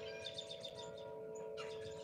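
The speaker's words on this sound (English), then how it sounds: "The wind chimes." Outdoor wind chimes ring with a faint, sustained metallic tone while birds chirp softly in the background.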